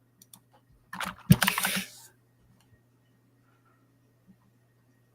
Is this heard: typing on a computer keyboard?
yes